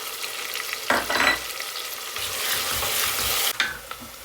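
Whole spices frying in hot oil: bay leaf, cinnamon, cardamom, cloves and black pepper. They give a close, crackling sizzle, with sharp bursts as they hit the pan and a stirred, hissing frying sound in between.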